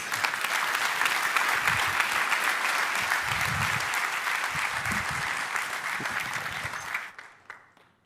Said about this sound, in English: Please give General Clark a big round of applause.